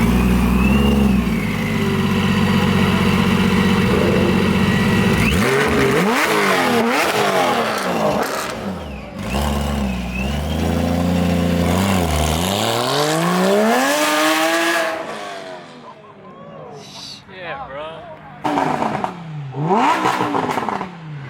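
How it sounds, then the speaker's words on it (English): Loud engines of a Lamborghini Huracan Evo and a twin-turbo V8 AMG rev hard nearby, rising and falling in repeated roaring bursts, with a deep V8 rumble and snarling high-revving exhaust overlapping. "that incredible Miami blue Huracan Evo and then the V8 bi-turbo AMG, they both sound so good together"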